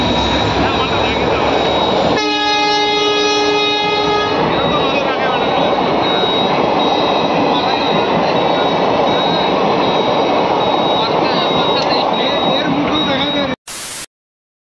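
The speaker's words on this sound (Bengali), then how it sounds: "ট্রেনে আসলাম, এই ট্রেনে এখন দাঁড়িয়ে আছি।" A train near Coochbehar runs on its rails with a steady loud rumble and clatter, broken early by a long sustained horn blast, then continuing to roar until an abrupt cut near the end.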